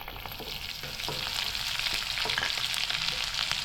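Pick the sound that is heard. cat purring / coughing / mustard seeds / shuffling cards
mustard seeds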